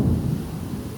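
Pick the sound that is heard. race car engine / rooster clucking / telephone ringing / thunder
thunder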